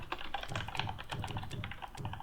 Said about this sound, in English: You know when Lavo's about because his mechanical keyboard